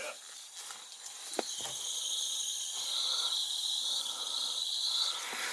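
A faint, continuous high-pitched hiss of refrigerant leaking from a central air conditioning unit, steady throughout with a few soft clicks and knocks early on.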